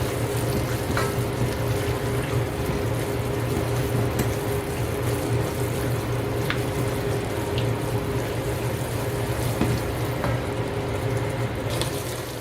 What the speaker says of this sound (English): It's about a 1/2 can of tomato paste. Just gonna stir.